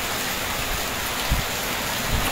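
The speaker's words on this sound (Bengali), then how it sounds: "এত ভারী বৃষ্টি কেন বুঝতেছি না।" Heavy rain pours down in Cox's Bazar as a dense, continuous hiss, with a couple of dull low thumps breaking through the steady roar.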